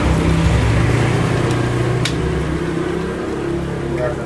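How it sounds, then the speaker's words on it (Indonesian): A dynamo motor hums low and steady as it turns a spit-roasted beef over smoke, with a constant drone and a faint click part way through. "Di sini menggunakan mesin untuk memutar sam-sam gulingnya."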